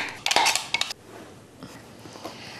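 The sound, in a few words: placing sauce into a bigger dish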